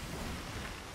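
Sea waves wash and surge in a pirate video game, a steady broadband rush of surf with a faint wind-like hiss that holds evenly for the whole moment, with no voices.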